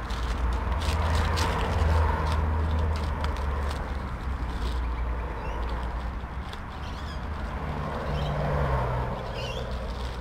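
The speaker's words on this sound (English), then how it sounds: "Sorry about the traffic noise." Constant low rumble of distant freeway traffic in the Adelaide Hills fills the whole stretch, with a faint roaring wash and no voices.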